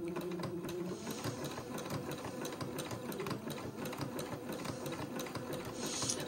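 A sewing machine runs a slow zigzag stitch along a curve in fabric, its close, steady mechanical chatter continuing throughout without speech.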